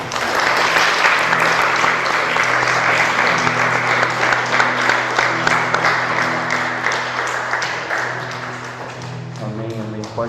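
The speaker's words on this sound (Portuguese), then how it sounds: "Vamos aplaudir Jesus Cristo." A church congregation at a worship service breaks into sustained, dense applause that fills the room at a steady level for several seconds before thinning out, with voices mixed in.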